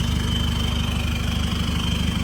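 A remapped 2005 car engine idles nearby with a steady, even low rumble and fine rapid pulsing, no talking.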